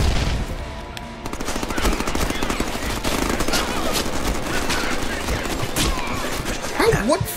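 Enemy gunfire in the Deadpool video game: dense, rapid machine-gun bursts crackle steadily throughout, loud and close, layered with scattered impacts and battle noise.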